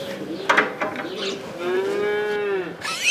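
A dairy cow moos nearby, a long drawn-out low call that rises and sustains before breaking off, preceded by some rustling and short knocks.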